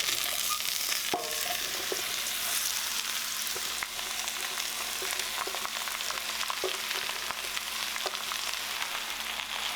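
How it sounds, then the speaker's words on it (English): Mushrooms, onions and garlic sizzle steadily in a hot pan, a loud continuous frying hiss with occasional small clinks and stirring taps throughout, no talking. "We're just going to get it all in the pan."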